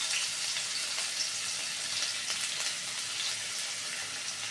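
Ginger-garlic paste sizzles in hot oil while aloo chop is being made, a steady, loud, even frying hiss that runs unbroken throughout with no voices.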